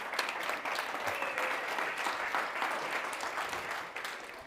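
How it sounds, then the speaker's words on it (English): Applause from an audience in a room of people, a steady sustained wash of clapping with no talk over it. "You could clap a little louder for her."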